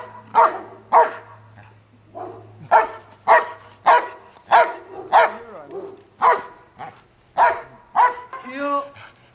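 A trained bodyguard dog barks repeatedly during an attack, with loud, sharp barks coming in a steady rhythm and a whine near the end, set against a low background hum.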